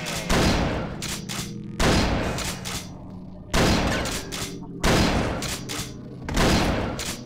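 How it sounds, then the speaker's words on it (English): Shotgun blasts in the video game Messiah: five loud, booming shots at even intervals of about a second and a half, each with a decaying tail. "Shotgun sniping."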